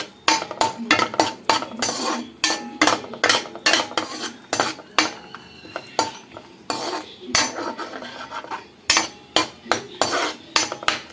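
Chopped almonds and cashews being fried and stirred in a pan, a busy run of metallic spatula clinks and scrapes against the pan in an irregular rhythm, close and fairly loud, with faint sizzling underneath.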